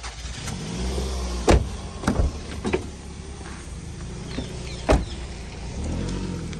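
A 2006 Toyota Harrier's engine idles with a smooth, quiet hum, interrupted by several sharp thuds and clicks, likely doors or fittings, nearby.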